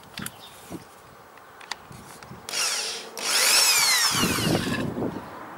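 A power drill with an extractor bit working on a sheared bolt, a few taps and clicks, then two loud whirring runs of the drill that rise in pitch and grind as the bit bites.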